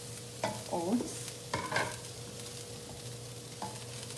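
Oats are stirred in a pan with a spoon, giving a few short scraping strokes in separate bursts against a faint sizzle, close and fairly quiet, with no talking.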